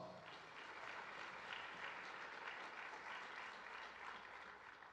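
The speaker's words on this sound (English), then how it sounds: "Please give them a round of applause." Audience applause at an awards ceremony, the Hall County Torch Awards, in a theatre venue: a dense, even wash of clapping lasting five seconds, fairly distant and faint.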